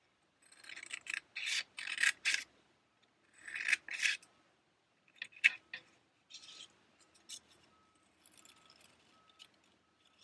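Scissors snip through paper to cut out small circles about a centimetre across for a paper mask, close bursts of crisp cutting and rustling broken by short pauses, with no talking.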